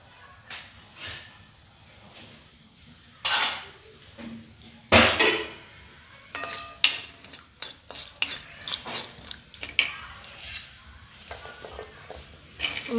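Garlic roasting in a pan for Kolhapuri green chilli thecha, with scattered clinks and scrapes of a utensil stirring against the pan and a faint hiss underneath, loud sharp knocks near the middle and frequent smaller taps after.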